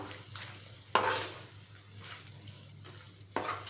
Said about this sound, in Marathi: छान मिक्स करून घेऊया तेल सुटायला सुरुवात झाले आपण एकदा मिक्स करून घेऊया